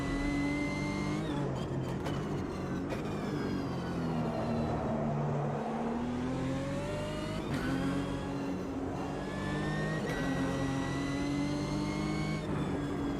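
A race car engine in Automobilista 2 at Virginia International Raceway drones steadily, with rising and falling revs and gear shifts, loud and continuous as the car slides around the track.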